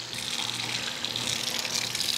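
Running water pours from a tap while chicken roasting trays are rinsed out, a steady close splashing stream with a faint pump-like hum underneath.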